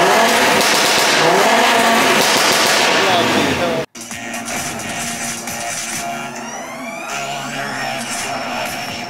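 A 2.5-litre five-cylinder Audi RS3 engine running for a sound check, loud revving and harsh exhaust crackle, cut by a brief dropout, then changing tones and rising revs as it continues.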